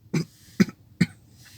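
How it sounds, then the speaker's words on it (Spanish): Three short, sharp coughs from a nearby person, evenly spaced and loud, with brief silence between them. "tengo un poco de tos"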